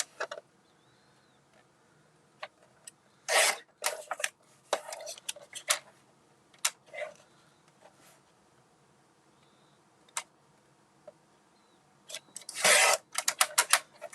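Paper trimmer slicing sheets of holiday pattern paper, with scattered quiet clicks and a few louder sliding, rasping cuts at irregular intervals over a hushed room, no talking.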